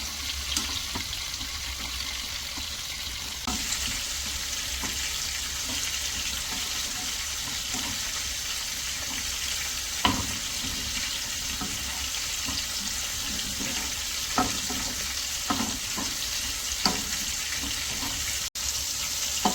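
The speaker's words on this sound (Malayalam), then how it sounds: "നമുക്കത് നന്നായിട്ടൊന്ന് ഇളക്കാം" Moringa leaf thoran stirred in a pan on low flame, a steady hissing sizzle running throughout with scattered soft scrapes and taps from the spoon.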